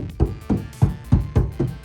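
Knuckle taps on the door panel of a 2024 Ford Ranger Raptor that has not been soundproofed, about six close, hollow, tinny knocks in an even rhythm with nothing else heard.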